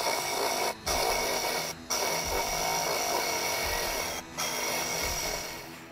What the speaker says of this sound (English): These bristle discs right here are another excellent way to clean up in the hard to get to areas.